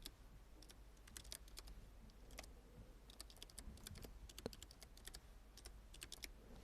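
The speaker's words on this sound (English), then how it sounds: "Then type the email address." Rapid, uneven keystrokes clatter on a computer keyboard while an email address is entered in Microsoft Word, the clicks soft and close with a low steady hum underneath.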